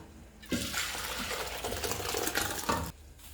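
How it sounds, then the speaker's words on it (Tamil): Water drains from a pot of cooked rice in a home kitchen, a steady trickling and splashing pour of about two and a half seconds, close and fairly loud, with no talking. "சாப்பாடு தண்ணி பாருங்கள் ஒவ்வொரு சொட்டு வடிக்குது."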